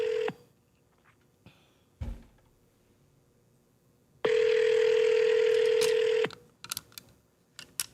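A steady telephone dial tone hums for about two seconds while a call is being placed, preceded by brief clicks and followed by a few faint taps, close and clear.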